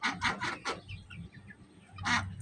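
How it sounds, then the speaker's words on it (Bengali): Young ducks and chickens on a home farm give a quick run of close, soft clucks and calls, a brief pause, then another call. "এখানে দেখতে পাচ্ছেন আমার হাঁস মুরগিগুলো আছে।"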